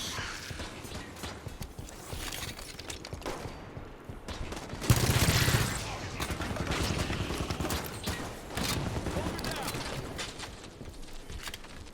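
Rapid gunfire in the video game Halo 5: Guardians, bursts of automatic shooting and a loud blast midway amid continuous battle noise, with a voice speaking over it.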